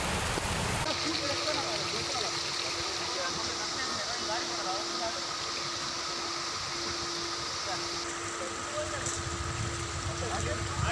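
Heavy, unbroken rain pours down around Kukke Subramanya, a dense loud wash of falling water that stays even from start to finish, with a steady tone running underneath and no talk.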